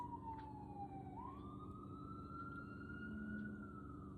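Emergency sirens wail along a street at Greenfield Village, their pitch sliding down then rising and holding, heard at a moderate distance over low traffic rumble.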